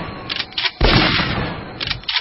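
Rifle gunshots in the game Perilous Hearts: a few quick sharp shots, then one loud close blast with a ringing tail, then more short cracks.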